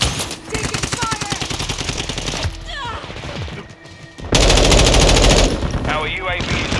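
Rapid bursts of automatic gunfire with heavy impacts and crashes from Call of Duty Modern Warfare 2 multiplayer, loud and close, with sharp bursts in a dense rhythm and a brief lull midway, under occasional game radio voices.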